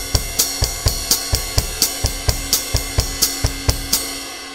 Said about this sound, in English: independence exercise between the ride cymbal, the kick drum, the snare drum, and a stepped hi-hat